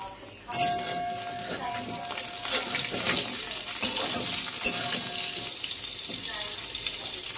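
Spices tempering in hot oil for a fish dish with tomato and ground chilli, a dense crackling sizzle with clattering utensil knocks, while a person talks faintly in the background.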